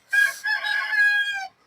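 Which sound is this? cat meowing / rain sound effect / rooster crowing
rooster crowing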